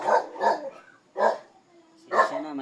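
Dogs bark from below a house on a rainy day, about four sharp barks in an uneven rhythm with a short whimpering tone between them, at moderate distance and loudness.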